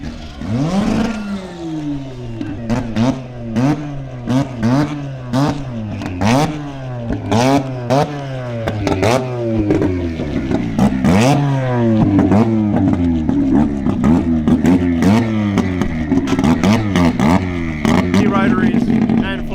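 Rotary-engined drag cars rev hard at a drag racing event, their loud rising and falling engine notes repeating in quick bursts with clattering idle between, close and sustained, with talk faintly underneath.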